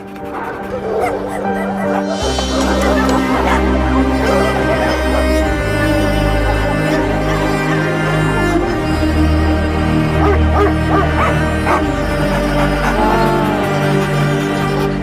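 Rescued stray dogs bark, yip and whimper in a busy overlapping chorus, loud and close, over a steady low hum with music-like tones running throughout.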